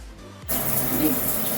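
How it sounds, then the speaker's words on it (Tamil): A kitchen sink tap in a new house gushes on abruptly after a brief moment of low voice and hum, then runs as a steady, close, loud rush of water until the end. "தண்ணி அப்படியே வேறு லெவலில் வந்து பாருங்கள்"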